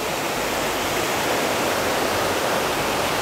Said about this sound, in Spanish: este es el río Sayulapa